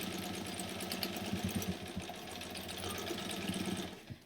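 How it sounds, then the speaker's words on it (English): A sewing machine stitches steadily around the edge of a fabric bag, its needle running as a close, continuous mechanical whir with slight rhythmic knocking and no pauses. "So I'm just going to stitch all the way around."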